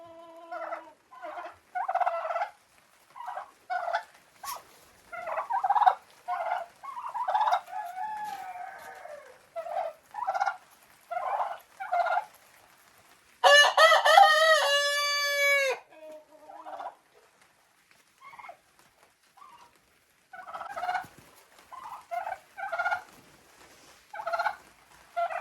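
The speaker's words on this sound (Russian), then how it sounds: "Это теплица, в которой живут у меня шелковые курочки" Silkie hens and Araucana roosters kept in a greenhouse, giving repeated close clucks and short calls in uneven bursts, with one loud crow in the middle; no talking.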